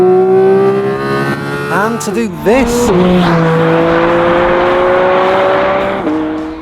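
A Porsche GT4 RS engine revs hard with rising and falling pitch sweeps, then holds a loud sustained high-revving note as the car passes close by, with a brief voice over the start.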